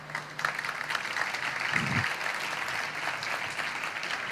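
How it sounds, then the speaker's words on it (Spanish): An audience at a guitar music event claps steadily, a fairly soft and even patter of hands that lasts the whole stretch, with a brief low thump partway through and no speech. "Un aplauso para él."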